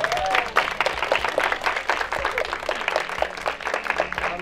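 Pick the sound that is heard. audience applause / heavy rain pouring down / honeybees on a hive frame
audience applause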